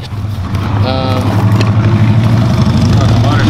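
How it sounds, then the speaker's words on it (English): A loud truck engine rumbles steadily nearby in a storage unit lot, a constant low drone running under people talking. "That truck's very loud."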